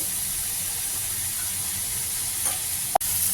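Gram flour barfi curry is sautéed in a pan with a constant, even sizzle and hiss close by. A single sharp clack sounds near the end, and no one talks.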